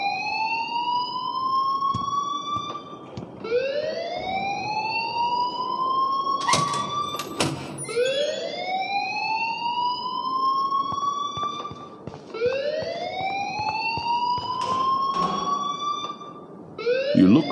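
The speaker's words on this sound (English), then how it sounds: "please turn off that alarm since that's your job" Repeating electronic fire alarm from the video game Life is Strange, a rising whooping tone with harmonics that sweeps up roughly every two to three seconds, loud and continuous, with brief sharper clatters between cycles.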